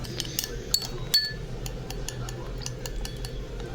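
A spoon stirs honey into a facial paste in a bowl, with light clinks and scraping ticks against the sides repeating steadily at close range, plus a couple of sharper taps.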